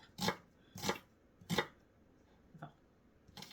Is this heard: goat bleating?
no